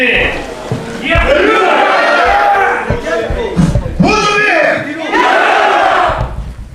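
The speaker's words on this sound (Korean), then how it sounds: "함성구호를 외쳐봅시다" Large crowd at a Vietnam War veterans' rally shouting Korean slogans in unison, three loud chanted bursts with short pauses between, close and powerful, a leading voice calling out before each.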